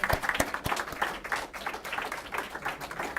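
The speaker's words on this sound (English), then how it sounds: "I think they deserve a round of applause." An audience at a Republican town committee debate claps together in a steady, dense round of applause that holds throughout without any speech.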